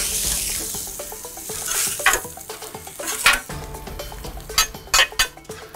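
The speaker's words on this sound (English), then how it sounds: "And this is all you're doing is just a quick sear on it." Bluefin tuna searing quickly on a backyard grill hisses steadily, with sharp clinks and scrapes of a utensil toward the end and faint background tones underneath.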